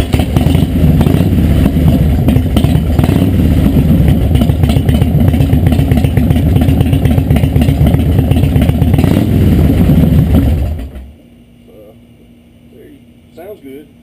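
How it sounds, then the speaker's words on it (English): A 2003 Harley-Davidson Deuce motorcycle engine with new pipes runs loud and close, a rough throbbing idle continuing for about ten seconds before it shuts off, leaving a quiet background. "I'll start the bike and everything"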